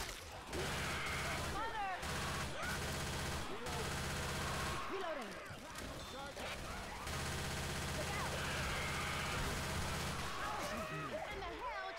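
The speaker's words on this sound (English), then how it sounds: "I feel like I'm shooting, like, air at these zombies with these bullets" Guns blaze in the zombie shooter Left 4 Dead 2 in rapid automatic bursts, loud and near, with short pauses between volleys. Voices and game chatter run over the shooting.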